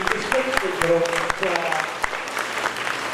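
An indoor audience claps at a religious discourse gathering, a dense burst of applause that starts strong and slowly thins out, with a voice speaking over it.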